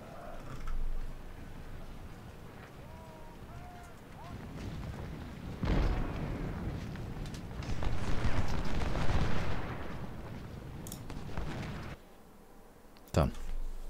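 Infantry volleys and cannon fire during a Union battle near Richmond in Ultimate General: Civil War, with a few booming bursts of massed gunfire, a longer rumbling barrage in the middle, and a sharp final crack, with someone talking at times.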